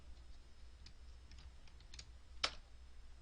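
Keys clacking on a computer keyboard while Linux DHCP settings are entered: quiet, irregular taps across the clip, with two sharper, louder key strikes near the end.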